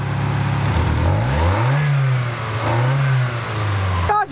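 A car engine with a poor-accelerating fault revs up and down as its throttle is tapped, rising in two swells over a steady close idle, then cutting off with a clatter.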